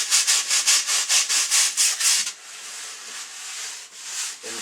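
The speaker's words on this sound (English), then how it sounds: "you can tell the difference here between the neck here where I scrape the wax off and right here where there's still wax" Wax is scraped off the neck of a taxidermy elk form, heard as about a dozen rhythmic, close, hissing scrapes in the first half, then a softer continuous rubbing.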